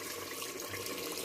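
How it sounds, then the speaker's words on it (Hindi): Water is poured into a pot of desi chicken curry, a steady, faint, continuous pouring splash with no talk. "इसलिए हम इसमें अभी थोड़ा पानी डालेंगे"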